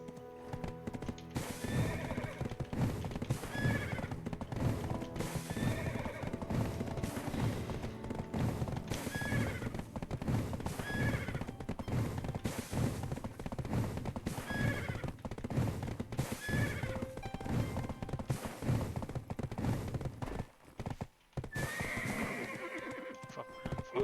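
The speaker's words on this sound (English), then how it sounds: "Ride horses in the open field." A horse in Black Desert Online ridden across an open field, steady rhythmic clip-clopping hooves throughout, with repeated neighs and whinnies cutting in over the galloping.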